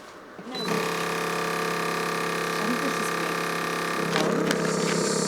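Vacuum sealer motor starting up and humming steadily as it pulls air from a food bag, a loud tonal drone that shifts slightly in pitch toward the end.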